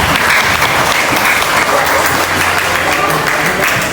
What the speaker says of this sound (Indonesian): Sekali lagi saya mohon kepada teman-teman beri tepuk tangan yang meriah